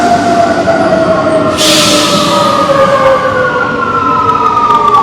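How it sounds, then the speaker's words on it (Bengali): A metro train pulls into a station in Rome, its brakes giving a loud, steady squeal with falling tones over a continuous rumble, and a hiss bursts in partway through. "এর মধ্যে মেট্রো চলে এসছে।"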